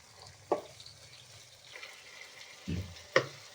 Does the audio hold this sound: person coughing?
no